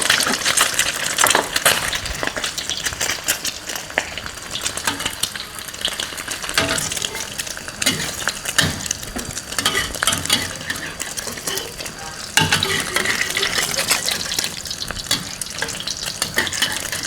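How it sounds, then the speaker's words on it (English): Chicken stir-fries in sizzling oil in a wok for a Thai dry red curry, a steady loud crackling hiss broken by metal spatula scrapes and clinks against the pan, with no talking. "The oil is sizzling."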